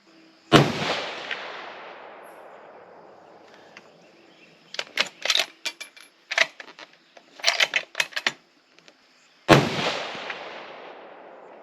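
Savage 110 Desert Tactical rifle in 6.5 Creedmoor firing two loud close shots about nine seconds apart, each with a long decaying echo, and a burst of clicking and clattering from working the bolt between them.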